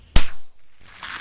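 A Savage Mk II FV-SR rifle fires a single sharp shot at a 200-yard target outdoors, a loud crack followed by a brief fading tail and a faint distant sound, with no talk.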